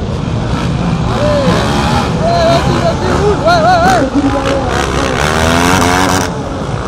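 Race machine number 4 passes during the Le Touquet race, its engine whining and revving close by under a loud crowd babble, with other engines droning in the background.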